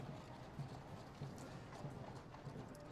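Horses' hooves clip-clop at a steady, even pace as they pull royal carriages at Trooping the Colour 2008, faint and distant beneath a broad outdoor crowd hush.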